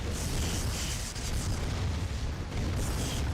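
In C&C: Red Alert, two Tesla towers blow up with heavy, rumbling booms, a dense low roar of explosions and debris filling the space with no talk over it.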